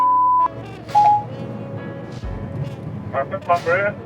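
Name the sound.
phone call being dialed via Siri in a car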